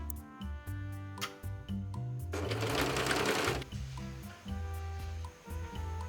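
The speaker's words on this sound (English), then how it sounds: "I'm now going to sew the sleeves onto the weird armhole openings for the 1 hour cardigan" Sewing machine stitching cardigan sleeves into the armholes of stretch fabric, running in short bursts with brief pauses and a steady rapid ticking rhythm, close and moderately quiet.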